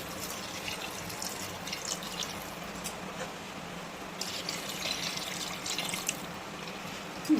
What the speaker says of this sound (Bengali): এই গরম জল দিয়ে দিচ্ছি।